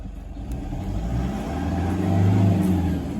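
A repaired car engine runs steadily close up, its mid-pitched hum swelling slightly as it revs, with a brief tap at the start and no voices.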